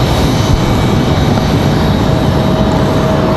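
A Republic Airways airliner arriving from LaGuardia at Raleigh-Durham airport, a loud steady broadband jet roar filling the air outdoors, no voices.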